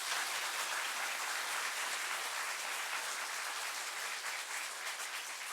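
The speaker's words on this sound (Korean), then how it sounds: "감사의 박수 한번 드리겠습니다" Congregation applause during a Sunday church worship service, a steady, dense wash of many hands clapping at even loudness throughout, with no speech over it.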